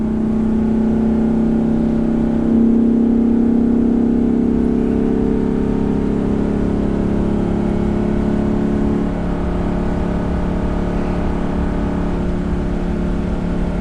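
The gas engine of a 2011 Winnebago Vista 35F Class A motorhome hums and pulls hard climbing a hill at over 50 mph, its deep drone rising slightly, then easing off toward the end.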